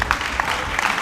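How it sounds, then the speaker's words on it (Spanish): Congregation applauding during a church service, a steady wash of clapping with a few sharper claps standing out, fairly close and continuous for about a second. "Den un aplauso a Cristo, hermanos."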